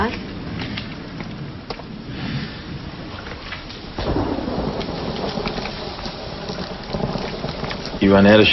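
Thunderstorm with steady rain pattering on surfaces and rumbling thunder rolling in, loud and close, with a sharp crack near the end; people talk over the storm.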